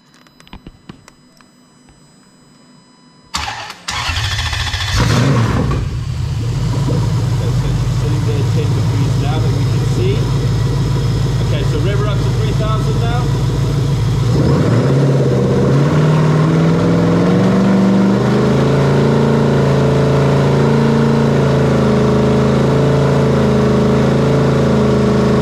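A car engine with Link engine management, set to 0 degrees base timing, cranks and catches after a few quiet seconds, then runs loudly and steadily, its pitch shifting partway through as it settles into a rough idle.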